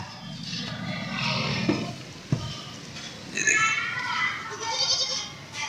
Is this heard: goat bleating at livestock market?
yes